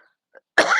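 A single harsh cough, close and fairly loud, follows a brief near-silence with a faint small sound before it.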